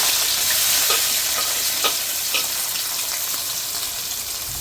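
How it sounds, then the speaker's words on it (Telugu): Chopped onions and green chilies sizzle in a generous amount of oil for a Nellore-style fish curry, a steady loud frying hiss with occasional clicks of stirring, alone without voices. "ఉల్లిపాయలు, పచ్చిమిరపకాయలు కట్ చేసుకునే ముక్కలు వేసుకోవాలి."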